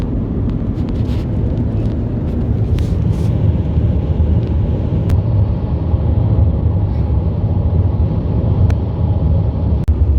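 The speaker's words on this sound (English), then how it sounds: "This is last day of driving and we are crossing Arizona." Steady road rumble inside a car cruising on a highway across the Arizona desert, a constant low drone with faint ticks and wind noise, no talking.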